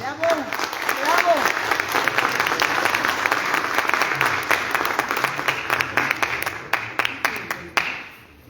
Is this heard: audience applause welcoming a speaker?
yes